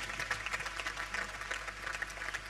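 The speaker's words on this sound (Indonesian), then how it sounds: "Juga saya ingin anda semua berikan tepukan kepada penari Tari Istana Budaya. Kita berikan tepukan." A concert audience claps for the Istana Budaya dancers, a steady patter of many hands at moderate distance with no voices over it.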